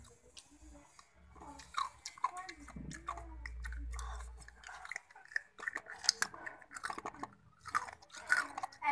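Milk-flavored ice cubes being chewed and crunched close up, with irregular crisp bites and clicks throughout, plus a low murmur partway through.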